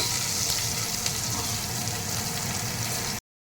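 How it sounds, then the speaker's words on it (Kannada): Crushed garlic and curry leaves frying in a pan, a bright, steady sizzle with faint bubbling, close and unbroken until it stops abruptly. "ಬೆಳ್ಳುಳ್ಳಿ ಜಜ್ಕೊಂಡಿದ್ದೀನಿ ಮತ್ತು ಸ್ವಲ್ಪ ಕರಿಬೇವು ಹಾಕಿ ಚೆನ್ನಾಗಿ ಸ್ವಲ್ಪ ಬೆಳ್ಳುಳ್ಳಿ ವಾಸನೆ ಬರೋದು ಸ್ವಲ್ಪ ಒಂದು 10 ಸೆಕೆಂಡ್ ಇದು ಫ್ರೈ ಮಾಡ್ಕೊಡಿ"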